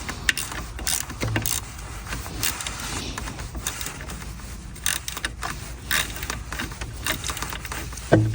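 Mechanical clicking, ratcheting and scraping from tightening a hose fitting in the engine bay of a 2000 Chevy Silverado GMT800 during alternator replacement, with irregular close metallic taps and clinks throughout and a sharper knock near the end.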